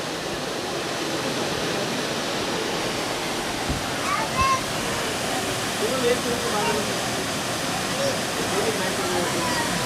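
Steady broadband rush of Randha Waterfall in Akole, Ahmednagar, heard as a continuous roar at moderate distance, unchanging throughout, with faint brief sounds over it.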